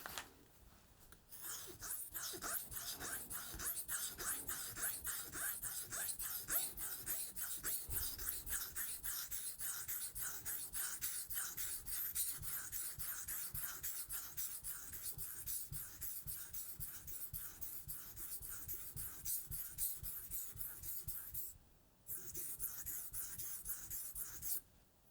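A Global G-2 chef's knife is drawn across Atoma diamond plates under heavy pressure in rapid, close, dry scraping strokes that continue steadily, with one brief pause near the end and no voices.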